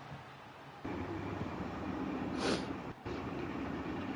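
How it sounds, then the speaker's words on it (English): A train rumbles past as a steady, moderately loud wash of rail noise from a television in the room, holding for several seconds with a short dip near the end. "Train."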